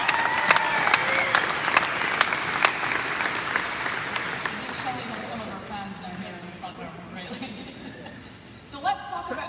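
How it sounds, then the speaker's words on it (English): A crowd at a Harley-Davidson dealer show claps loudly and steadily, then the applause thins out. Chatter and a few chuckles come through as it dies down, and a voice speaks near the end. "Give Shelley a round of applause."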